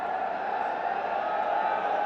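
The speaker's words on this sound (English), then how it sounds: "Wonderful crowd in as well." Steady roar of a large crowd at a Bangladesh Premier League T20 cricket eliminator, a continuous dense wash of cheering and voices held at an even level throughout, with no distinct individual shouts standing out.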